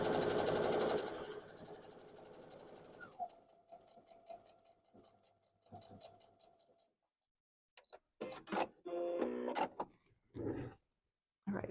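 Sewing machine stitching quilt fabric, a steady mechanical whir for the first seconds that drops to a quieter running hum, then stops before some handling clatter and clicks near the end.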